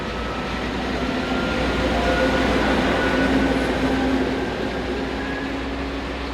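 Class 232 diesel locomotive 232-583 running light engine toward a quarry, a steady loud rumbling drone with engine hum and tonal whine, sustained throughout at close range without talk.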